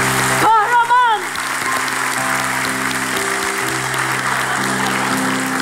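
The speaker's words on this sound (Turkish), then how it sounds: "Bütün plaj alkışlasın önce." A beach crowd bursts into applause for a hero, sustained clapping heard amid a busy outdoor ambience, with a voice briefly calling out at the start.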